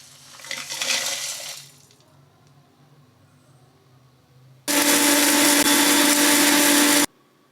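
A kitchen mixer grinds roasted spices into fine powder for chicken sukka, a loud steady whirring roar lasting a couple of seconds after earlier quieter rustling and clatter.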